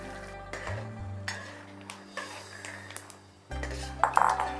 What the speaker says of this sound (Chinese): 输花生米哈，冷油也可以下锅，